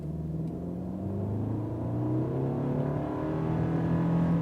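A 2.5-litre non-turbo Subaru Outback 2.5i accelerating from a standstill in I mode, the engine note rising steadily in pitch over a constant road and cabin rumble, heard from inside the car.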